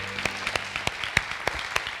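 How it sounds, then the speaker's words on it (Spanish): Applause from a small audience at a Partido Popular candidacy and electoral programme presentation in Albalat, individual claps standing out sharply over a soft, steady bed of clapping, moderately loud. "pues un aplauso para ella que no ha podido venir"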